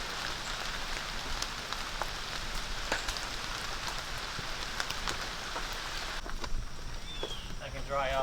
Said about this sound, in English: The rain is refreshing.